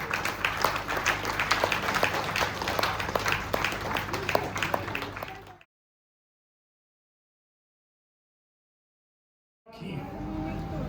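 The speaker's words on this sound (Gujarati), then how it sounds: "એટલે આપણે તાળીઓ ચાલુ રાખીએ." Applause at a 50th wedding anniversary celebration, a dense crowd clapping steadily and loudly for several seconds before cutting to silence, then resuming faintly near the end.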